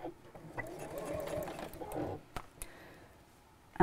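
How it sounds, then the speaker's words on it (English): A domestic sewing machine stitches around the edges of the outer pieces of a rope-handle bag with a quiet, soft mechanical hum. The hum fades after a couple of seconds, leaving a few faint clicks and a brief sharp sound at the end. "I'm just going to sew around the edge of the outer pieces to start with"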